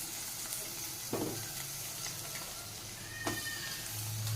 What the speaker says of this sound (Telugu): వంకాయలు వేస్తాను చూడండి